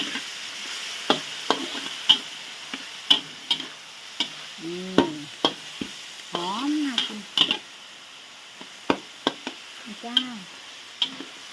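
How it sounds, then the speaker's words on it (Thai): Minced chicken is stir-fried for basil chicken, with frequent sharp scrapes and knocks of a spatula against the pan over a soft sizzle, and some brief vocal sounds in between. "ครบเครื่องแล้วจ้า ผัดไปกันเลย"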